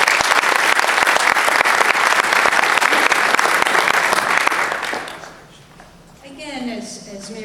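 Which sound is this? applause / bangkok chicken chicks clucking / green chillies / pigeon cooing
applause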